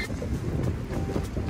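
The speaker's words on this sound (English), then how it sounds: "It is so windy out here" Strong wind buffets and roars outdoors, rushing steadily across the microphone for a brief moment.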